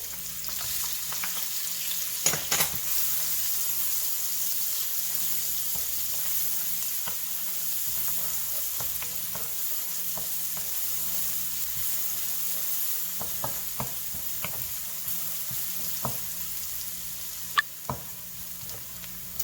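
Shallots and garlic fry in about five tablespoons of oil in a pan, a steady close sizzle throughout with occasional small pops and knocks of a stirring utensil.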